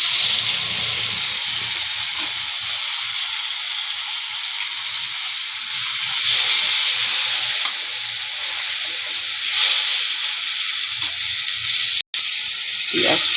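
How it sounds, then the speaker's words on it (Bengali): Onion and tomato paste with cumin and bay leaf sizzles steadily in hot oil in a kadai, a continuous close hiss with faint scraping stirs and no talking. "পেঁয়াজ টমেটোটা গন্ধটা একটু তেলে ভেজে নিই।"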